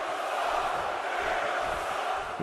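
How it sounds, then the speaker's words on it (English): A wrestling arena crowd in the video game WWE 2K17 roars steadily for a couple of seconds, a dense sustained wash of many voices with no commentary over it. "The crowd letting Jericho know what they feel of him this evening."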